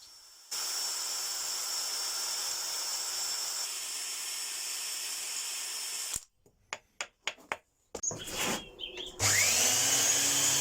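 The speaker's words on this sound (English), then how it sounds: "I drill it from both sides with this extra long 1/8 drill bit" A power drill with an extra-long 1/8-inch bit whines steadily through steel for several seconds, then stops; a few sharp clicks and clatters follow before a high, bright grinding burst resumes near the end.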